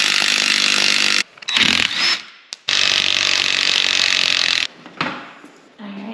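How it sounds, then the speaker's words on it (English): An impact wrench with a 15mm socket takes out the seat bolts on a Jeep JK, loud harsh bursts of hammering whir broken by short pauses and one brief blip, close up. "we're gonna grab some socket and our impact and take those apart"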